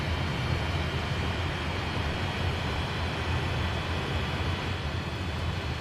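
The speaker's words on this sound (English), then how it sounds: "Now starting engine number 2." Steady, dense engine roar from the Dornier Do-31 jet transport in Microsoft Flight Simulator, a continuous broadband rumble and whine with no clear change across the stretch.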